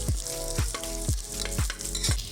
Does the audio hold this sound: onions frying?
yes